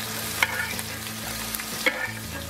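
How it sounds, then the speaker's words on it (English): Butter sizzles and crackles in a hot pan as a steak is basted, a steady frying hiss with small spoon clinks and pops, close and alone. "Basting with butter."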